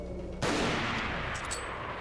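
A single bolt-action rifle shot in the Resident Evil 4 video game, one sharp loud crack that rings out and decays over the following second and a half.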